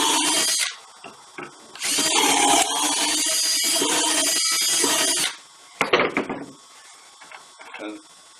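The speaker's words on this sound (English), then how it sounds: "and drill the holes." A power drill bores dowel holes in wood through a Dowelmax doweling jig, with two long loud whirring runs, a brief pause between them, then shorter bursts and faint handling noise.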